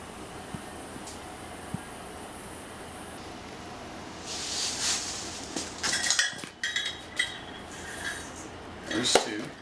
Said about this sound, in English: So you're going to need a cup of sugar, or thereabouts. 2 cups of this kosher salt.